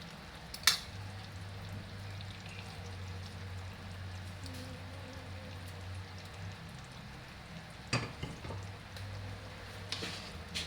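Fried eggplant dropped into a pan gives a low, steady sizzle and crackle, fairly faint, with a few sharp clatters scattered through it.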